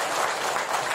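Short burst of steady clapping from an audience at a public Quran recitation examination for a children's Quran school in Gandusari, Blitar, a dense even wash with no distinct voices.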